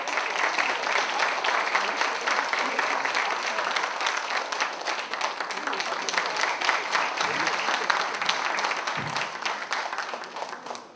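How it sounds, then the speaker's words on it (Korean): A seated crowd gives long, steady applause at the founding ceremony of a Kim Dae-jung Foundation branch in Gimpo, a full even roar of clapping that tapers off at the end. "큰 박수 부탁드리겠습니다"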